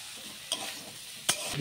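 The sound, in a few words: potatoes and cauliflower frying in a pan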